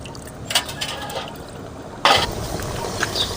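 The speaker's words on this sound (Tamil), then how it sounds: "இதுக்கு மேலே புளி தண்ணி ஊற்றிக்கலாம்." Tamarind water pours into a boiling aloe vera tamarind curry, heard as a close, liquid splash and trickle that starts softly and then surges louder partway through.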